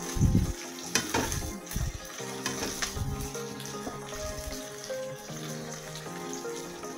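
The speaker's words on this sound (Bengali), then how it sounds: "পেঁয়াজটাও হালকা করে ভাজবো" Sliced onion frying lightly in a pan while making chilli paneer, a steady soft sizzle with occasional stirring scrapes and clatter, close and moderately loud throughout.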